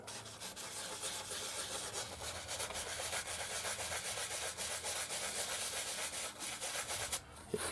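Sandpaper rubbed along the wooden edge of a 1961 Gibson SG Reissue guitar, a close, steady scratchy rasp of repeated strokes that stops just before the end.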